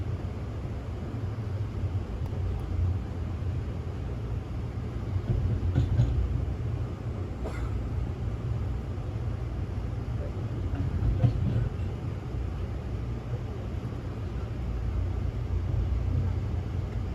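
Aboard the Amtrak Coastal Starlight passenger train between San Jose and Los Angeles, a steady, close rumble of the cars riding the rails holds through the clip, with faint clicks and no clear voices.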